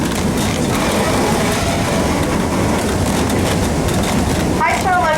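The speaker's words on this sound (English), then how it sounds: "Shay number 5 is the oldest operating Shay engine at Cass." Shay No. 5, the oldest operating Shay steam locomotive at Cass, pulling a train along the scenic line, with steady loud rumbling and rhythmic rail clatter throughout and a narrator speaking over it.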